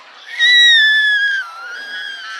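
A young child at a first-birthday outing to a children's museum lets out a loud, high, sustained scream of about a second, sliding slightly downward, then trailing into quieter voiced sounds.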